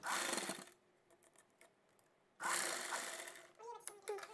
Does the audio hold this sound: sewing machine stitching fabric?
yes